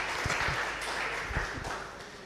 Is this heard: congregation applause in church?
yes